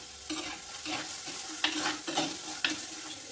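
Torn curry leaves sizzle and crackle in hot oil in a pan while a spoon stirs them, with steady frying noise broken by a few sharp scrapes.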